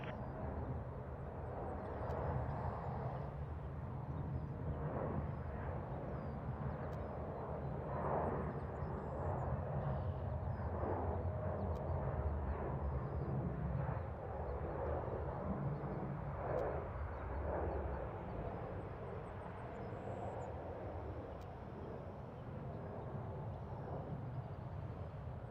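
Jet airliner engines at Toronto airport, a steady distant rumbling roar that holds at a moderate level for the whole stretch, with no talk over it.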